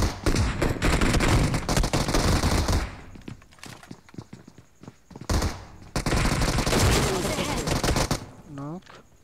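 Rapid bursts of automatic gunfire from a rush-style video game firefight, loud and dense in long sustained volleys with brief gaps, while players talk excitedly over the shooting.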